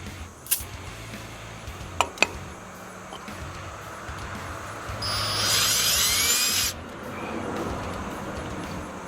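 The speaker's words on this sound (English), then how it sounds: "Definitely keep it lubricated. That's going to keep the drill bit cool and allow it to cut faster." A drill bit bores into a metal Cletrac tractor roller, with a bright, whining grind of about two seconds after some scattered clinks and taps in a quiet workshop.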